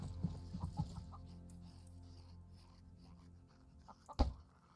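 A chicken in a farming video game clucks in a few short, soft bursts, followed by a brief sharper sound near the end against a quiet background.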